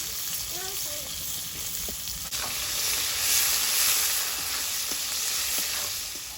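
Onion sizzles in hot oil in a wok with a steady, bright hiss that swells slightly midway, and a brief faint voice near the start.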